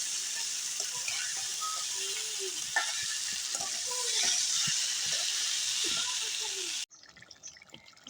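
Chicken and potatoes fry together in a pan with loud, steady sizzling and crackling, broken by scraping stirs, then the hiss drops away near the end to quieter clatter.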